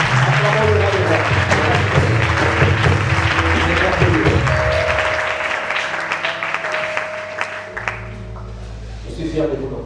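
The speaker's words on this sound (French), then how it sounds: "acclamons le roi des rois" An audience at an international revival conference in a church setting applauds and cheers loudly, dense sustained clapping with shouts, under musical tones and a voice speaking through it.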